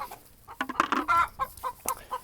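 A broody hen sitting on eggs clucks agitatedly in a series of sharp, uneven squawks and clucks close by, loud and alone without any talk.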